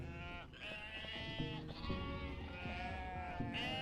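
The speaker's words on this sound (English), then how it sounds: "sheep!" Sheep bleat in the video game Unmetal, a short run of wavering game bleats heard faintly and alone.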